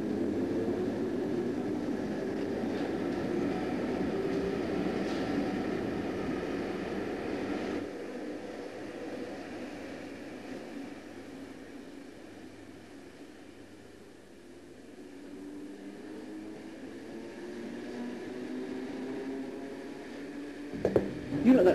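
A low, steady rumble of a train running alongside, with a shift in tone partway through and a brief clatter near the end.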